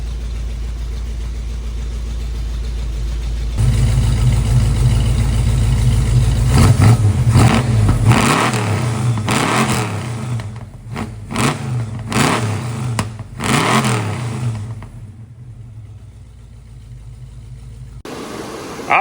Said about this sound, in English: Got pretty good sounding idle, really.